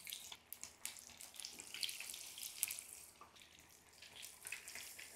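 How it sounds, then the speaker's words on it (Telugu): Chicken leg pieces (tangdi) frying in medium hot oil give a steady, close sizzling hiss with scattered crackles and pops throughout. No one speaks. "మీడియం హాట్ ఆయిల్లో మన ముక్కల్ని ఫ్రై చేసుకోవాలి."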